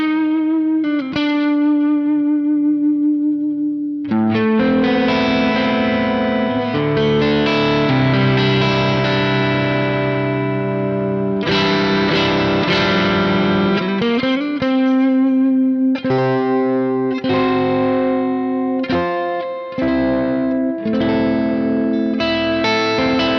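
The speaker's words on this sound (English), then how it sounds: "So this pickup is hot because it is distorting." A heavily distorted signature electric guitar on its neck pickup, with a warm, rounded tone, plays sustained chords and riffs, loud and close, with brief pauses between phrases and no talking.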